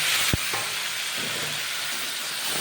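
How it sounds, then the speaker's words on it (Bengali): Cauliflower and potato pieces drop into a wok of fried onions with one sharp thud, followed by a continuous close hiss and sizzle of frying. "পেঁয়াজ ভাজা হয়ে গেছে, এবারে কেটে ধুয়ে রাখা কপি আর আলু দিয়ে দেব কড়াইয়ের মধ্যে"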